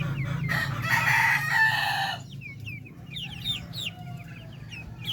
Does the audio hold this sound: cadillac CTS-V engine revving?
no